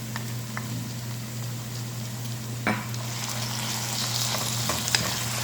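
Marinated chicken frying in a pan for pancit bihon, with a continuous sizzle and a few scrapes and clinks of stirring, a low steady hum underneath and no talking.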